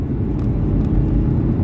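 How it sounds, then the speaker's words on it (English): The two-stage twin-turbo engine of a Subaru Legacy GTB E-Tune drones steadily from close by while driving, a dense low rumble with no break. "so that's a 2-stage twin turbo on this car"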